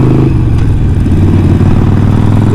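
Harley Davidson motorcycle engine heard while riding, a loud, close, steady lumpy exhaust throb with a faint clattering texture, and no clear distinct pops.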